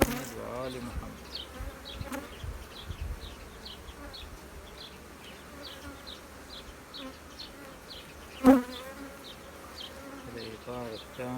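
Honey bees buzz steadily from an opened beehive during a hive inspection in spring, a continuous close hum with frame handling noises and one sharp knock near the end.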